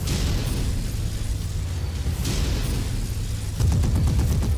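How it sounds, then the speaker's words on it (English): Missiles launched and exploding during MechWarrior combat, heard as continuous dense rumbling blasts and booms with a steady roar and a burst of rapid crackling fire near the end, loud and without talk. "Missiles away."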